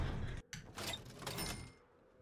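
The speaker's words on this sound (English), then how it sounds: "Get in, close the door." A door closes in the video game 7 Days To Die, a muffled scraping slide followed by a soft bump and rattle, fairly quiet before fading out.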